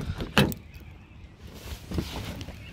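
A car door thuds shut on a 2015–2020 Toyota Hilux 2.8L diesel as someone climbs back inside, one solid close knock followed by softer interior shuffling and a second faint bump, with no talk.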